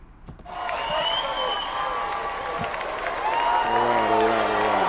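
A crowd of laborers applauds and cheers, a steady wash of clapping with whoops rising in the second half, fairly loud and continuous, with some voices mixed in.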